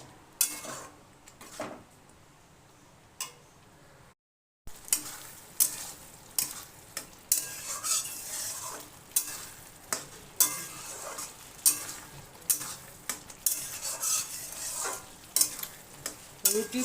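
Spinach and chickpea curry is stirred in a pan, a regular series of spoon scrapes and clacks against the metal over a low sizzle, close and distinct, after a brief silent gap.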